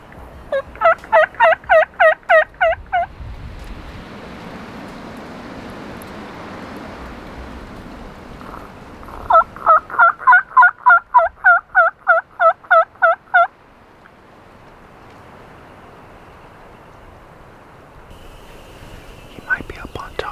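A wild Merriam's turkey tom gobbles from around 100 to 120 yards off, two rapid rattling series standing out over quiet outdoor background and a soft murmur of voices.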